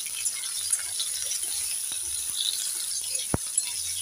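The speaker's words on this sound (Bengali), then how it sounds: "এখানে আমি একটা মাঝারি সাইজের টমেটো নিয়েছি। এটাকে 1 মিনিট ভেজে নেব।" A medium-sized tomato frying in a pan for a Bengali bhindi aloo curry gives off a steady, faint, high sizzle, with a few soft clicks and scrapes of stirring.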